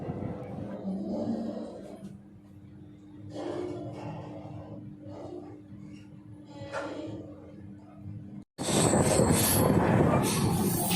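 Steady rumble inside a moving train bound for Jammu, with faint voices over the running noise, then an abrupt cut to a louder, harsher roar of the carriage.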